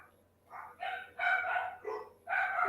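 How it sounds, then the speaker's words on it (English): Several dogs barking in a house at noises outside, short bursts coming in irregular clusters at moderate distance with a quiet room tone underneath. "The dogs are just hearing all kinds of noises outside, and they're barking at whatever's outside."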